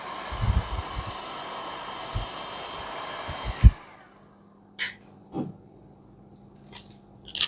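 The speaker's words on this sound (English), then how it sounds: "use the heat gun to melt the edges little bit" A heat gun blows over the edges of chocolate set on an OHP sheet, a loud steady roar for about three and a half seconds that cuts off abruptly, followed by a few light taps and clicks in near silence.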